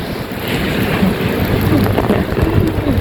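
Heavy typhoon rain pours down on a street in Taiwan while strong wind gusts roar through, a loud, continuous wash of water and rushing air close by.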